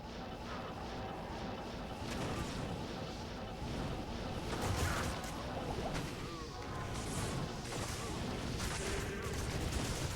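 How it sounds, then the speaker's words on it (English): Corpse Explosion spell cast by a Necromancer in Diablo 2 Resurrected, heard as a dense, continuous barrage of crashing, bursting blasts and whooshes, fairly faint and steady throughout. "As soon as you can cast Corpse Explosion, it's just good night, Betty."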